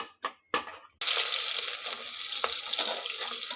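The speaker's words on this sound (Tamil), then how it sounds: "குக்கரில் கொஞ்சம் எண்ணெய் ஊற்றிக்கிடுவோம். 2 கிராம்பு, பட்டை, ஏலக்காய் எல்லாம் போட்டிருக்கேன். அதையும் நல்லா போட்டு கிண்டி விட்டுருவோம்." Cloves, cinnamon and cardamom sizzle loudly in hot oil in a pressure cooker after a couple of short clattering drops, with a steady crackling fry and occasional stirring scrapes.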